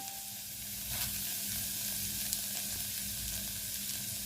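Grated carrot sautés in ghee for carrot halwa, giving a steady, close crackling sizzle that stays even and uninterrupted with no voices.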